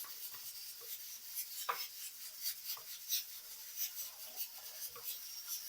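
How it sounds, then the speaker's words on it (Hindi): Grated boiled potatoes being mashed by hand for daal tikki, giving soft, irregular squishing and rubbing sounds close up, with small quiet presses repeating unevenly and no talking. "अब मैं हाथों की मदद से इन्हें थोड़ा थोड़ा सा मैश कर लूंगी।"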